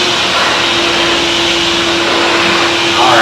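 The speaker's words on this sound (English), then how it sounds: "So you can keep on vacuuming" A self-serve pet wash vacuum dryer blows steadily on a wet dog, a loud continuous whoosh with a faint tonal whine running through it and no break in the airflow.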